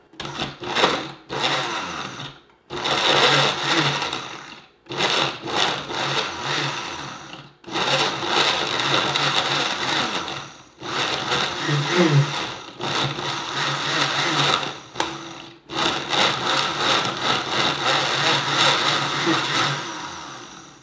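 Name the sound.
blender crushing ice and strawberries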